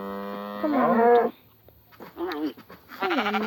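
Sheep in a block-building survival video game bleat in a few short, wavering calls, fairly close and clear, with quiet gaps between them and no talk over them.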